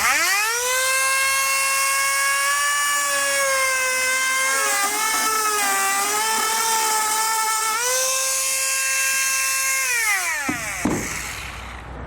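A Dremel rotary tool cuts through material during a trailer hitch receiver install on a 2021 Honda CR-V, giving a loud, high whine that dips in pitch under load, holds steady, then spins down and stops near the end.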